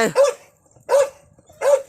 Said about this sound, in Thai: ส่วนไอ้ตัวอยู่ข้างบนก็เห่าจังเลย